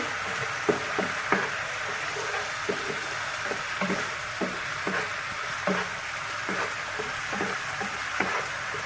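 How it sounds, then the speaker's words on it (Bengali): Onions sautéing in a pan for sorisha ilish, Bengali hilsa in mustard sauce. A steady loud sizzle runs throughout, with regular soft knocks as a spatula stirs the onions. "পেঁয়াজটা আমি 1 মিনিটের মতো আমি কষিয়ে নেব।"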